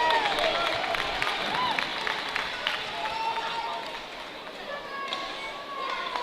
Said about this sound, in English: Fans a bit of an applause for him to get there.